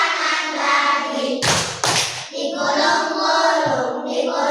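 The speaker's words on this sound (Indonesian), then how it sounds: "Buka tutup, buka tutup, tepuk tangan lagi." Two sharp hand claps in quick succession during a children's action song, landing between sung lines, with a singing voice continuing before and after.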